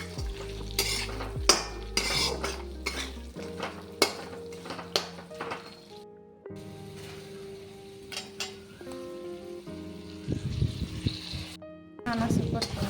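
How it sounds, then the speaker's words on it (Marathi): Tomatoes with turmeric, coriander powder and salt sauté in a pan. A spoon scrapes and clanks as it stirs over a soft sizzle, and a voice is heard at times. "छान असं परतून घेऊया आणि आता टोमॅटो टाकूया."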